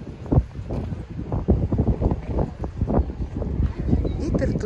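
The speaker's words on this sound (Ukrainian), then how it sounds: "Вітер тут." Wind gusts outdoors beside the water at the Bukovel resort, buffeting the microphone with a rough, rumbling roar while people talk close by.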